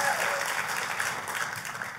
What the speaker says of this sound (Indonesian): Kita kasih tepuk tangannya, pula yang paling meriah buat Tuhan kita.